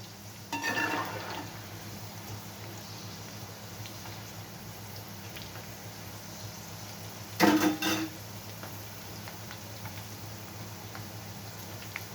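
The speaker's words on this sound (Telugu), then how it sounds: "వేగాలి బాగా" Ivy gourd pakoda frying in oil, a steady low sizzle and bubbling throughout with two brief louder clatters of a utensil against the pan, no talking.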